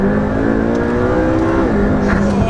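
A McLaren P1 supercar engine roars loudly and steadily from close inside the cabin, pitch rising slightly as it accelerates, with a brief shift in tone near the end.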